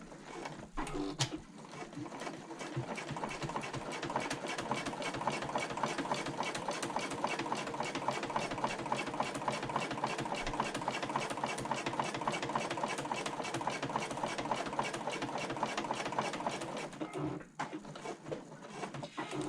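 A sewing machine runs steadily, top stitching the folded edge of a convertible bag's back exterior, a fast, even mechanical whirr that holds for most of the stretch before stopping near the end.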